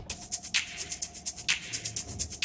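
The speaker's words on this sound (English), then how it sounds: "we have an 8-bar break with just this shaker and snap." Shaker and snap samples playing alone in an 8-bar break of a future house track, a quick steady pattern of crisp, airy shaker hits with sharper snaps landing on regular beats.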